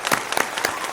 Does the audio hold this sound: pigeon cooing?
no